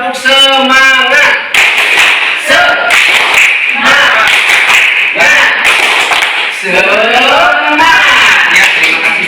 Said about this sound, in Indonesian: Sekali lagi ya, tepuk semangat.